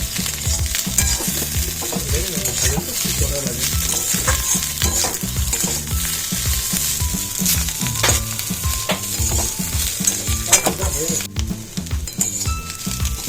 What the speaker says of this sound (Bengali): মাছটা তো ভাজা হয়ে গেছে